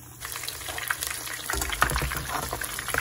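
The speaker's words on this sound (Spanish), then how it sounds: "aquí tenemos aceite a 365 grados. Vamos a freír la carne" A beef cutlet drops into oil heated to 365 degrees and starts frying, a bubbling, crackling hiss that swells suddenly and keeps going steadily up close.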